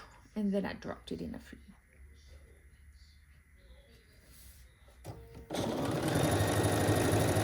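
A sewing machine runs in a steady, close burst near the end while stitching string quilt strips, after some quiet handling sounds and brief talk.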